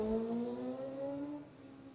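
A motorcycle on a road is heard as a passing engine with a steady tonal drone sliding gradually downward as it moves off, moderately loud then fading, with no talk over it.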